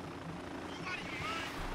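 Helicopter rotor and engine noise from the video game Spec Ops: The Line, a steady throbbing drone running under talk throughout.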